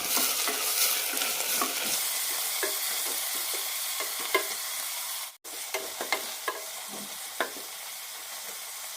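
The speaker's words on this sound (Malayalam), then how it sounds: "കൂടെ തന്നെ മല്ലിയില ഇടാം. കുറച്ച് പുതിനയിലയും, നന്നായി വഴറ്റും." Fresh coriander and mint leaves are sautéed in a hot pan for kuska biryani, giving a steady bright sizzle broken by frequent clicks and scrapes of stirring; no voices.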